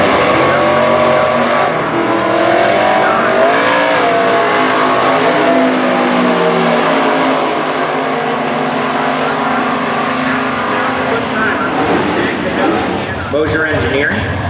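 Super Gas drag racing cars, including a red 1963 Corvette Roadster and a 2003 S10, rumble and rev loudly at Portland, Indiana, engines rising and falling beneath a continuous announcer's voice.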